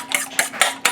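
Eggs and milk beaten in a bowl with a utensil, four quick rhythmic strokes with scraping clinks against the bowl, close and clear, no talking.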